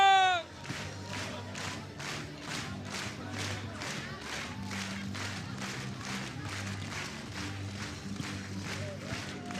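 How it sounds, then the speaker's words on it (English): Audience at the World Rowing Championships clapping in unison, a loud rhythmic beat of many hands roughly twice per second, steady and sustained over crowd noise and background music. "Clap your hands."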